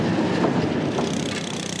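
Two heavy diesel locomotives hauling a train slowly across a railway bridge on British Rail, a loud continuous rumble with rhythmic wheel clatter and faint squeal, close by and steady throughout.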